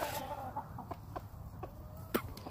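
A Roundhead Butcher rooster gives soft, scattered clucks close by over a low background hum, with a few short sharp sounds in between.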